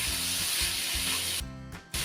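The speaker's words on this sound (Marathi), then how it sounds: "मी ही भाजी आहे व्यवस्थित तेलावर परतवून घेतली आहे" Mixed vegetables with bitter gourd stir-fry in hot oil, a steady loud sizzle with rhythmic scraping strokes of stirring, briefly dropping out near the end before resuming.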